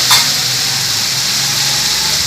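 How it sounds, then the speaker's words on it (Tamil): Crab gravy base sautéing in a pan at home, a steady close sizzle running throughout with a brief louder burst at the start and no voices. "போட்டு வதக்கி வதங்கிடுச்சு"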